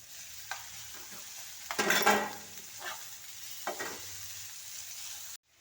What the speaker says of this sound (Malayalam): ഇപ്പോഴതിൻ്റെ കൂടെ തന്നെ നമുക്ക് ക്യാപ്സിക്കവും തക്കാളിയും കൂടെ ഇട്ട് വഴറ്റാം